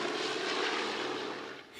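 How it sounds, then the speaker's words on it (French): A Canadair firefighting aircraft flies over wildfires in Greece, its propeller engines droning as a steady roar that fades slightly at the end. "Les Canadair éteignent les foyers les plus importants, souvent inaccessibles sur Terre."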